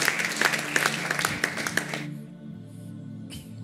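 Church congregation clapping hands during a service, a burst of scattered rhythmic claps for about two seconds that quickly dies away into a quiet room with faint background sounds.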